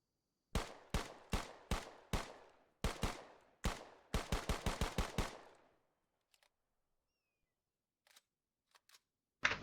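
An M1A1 paratrooper carbine firing .30 carbine rounds in the Arma 3 video game: a loud run of sharp single shots, a few evenly spaced then a faster cluster, followed by quiet with a few faint clicks and a last shot at the end.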